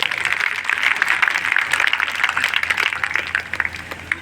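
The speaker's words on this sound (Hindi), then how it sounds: "तालियां बजाओ।" Audience applause at an annual spiritual festival gathering, a dense wash of clapping that thins into scattered individual claps toward the end, moderately loud and close.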